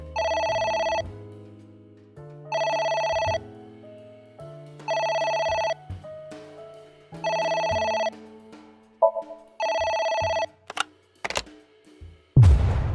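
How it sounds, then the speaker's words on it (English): Ringing phone in the video game AI: The Somnium Files: loud electronic rings in five evenly spaced one-second bursts, separated by brief pauses with other game sounds, ending in a sharp burst of noise. "A phone."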